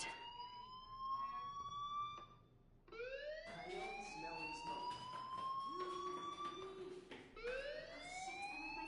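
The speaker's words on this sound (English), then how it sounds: "Hey, do you hear that fire alarm? That means you should be outside." A fire alarm in Life is Strange wails in repeated rising electronic sweeps, several overlapping cycles restarting every second or two, steady and fairly loud with no talking.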